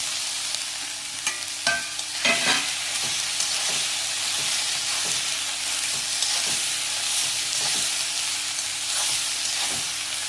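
Okra stir-fried with masala in a hot pan, a steady bright sizzle with scattered scraping stirs, close and continuous with no talking.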